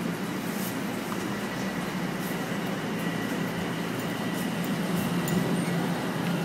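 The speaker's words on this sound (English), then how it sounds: "I'm on the subway platform right now. The train's coming" A Toronto subway train pulls into the platform, a steady rumbling roar with hissing and faint high squeals over a low drone, heard from close by on the platform with no speech.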